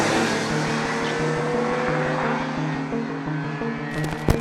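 A car's combustion engine runs loudly and steadily up close with a rough, pulsing low rumble, ending in a brief clatter.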